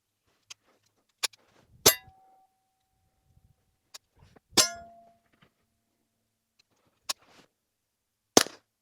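Suppressed .22 rifle shots with American Eagle 45 grain copper plated rounds: about seven sharp, short cracks spaced irregularly over several seconds, some followed by a metallic ring from steel targets, outdoors with silence between.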